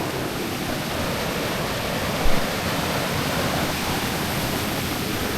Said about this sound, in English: here's a creek.